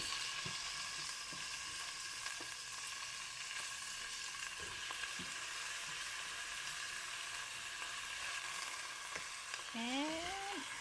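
Chicken cooks in a pot with a soft, steady sizzle and occasional light clinks from stirring, fairly quiet throughout, with a brief rising whine near the end.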